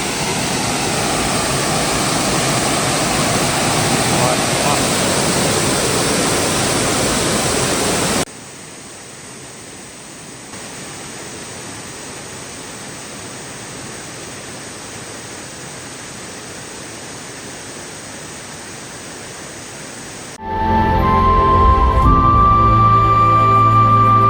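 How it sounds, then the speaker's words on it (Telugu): Waterfall behind rocks near Karwar in coastal Karnataka: a steady, loud rushing hiss that drops suddenly to a fainter wash, then gives way to a different, louder noisy passage near the end. "దీనిపైన రాయి వెనకల సైడ్ ఉన్న వాటర్ ఫాల్ ఇదేనండి."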